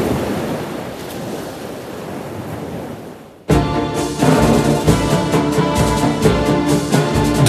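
Ocean waves breaking on the shore, a loud, steady roaring wash of surf that swells in abruptly after a quieter, softer stretch of rushing water and wind.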